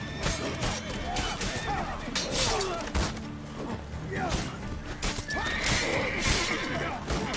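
A horse in The Witcher 3 video game neighs and whinnies in several loud calls amid clip-clopping hooves, thuds and combat clatter, with a person talking over the game sounds.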